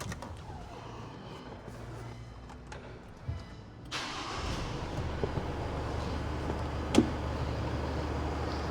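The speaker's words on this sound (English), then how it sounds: "We can start the car up." An Isuzu D-Max engine with a lithium hybrid battery cranks and catches about four seconds in, then settles into a steady idle rumble, with a few small clicks and knocks.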